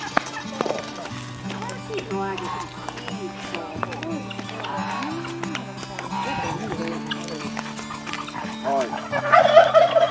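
Chickens and other poultry cluck and gobble close by in a busy farmyard near Pucallpa, Peru, with people talking and moving around, and a few sharp calls toward the end.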